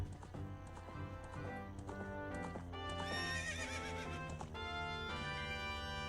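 Horse neighing and hoof clip-clops from The Legend of Zelda: Ocarina of Time, playing steadily over game music with harmonic tones, the whinny loud and close.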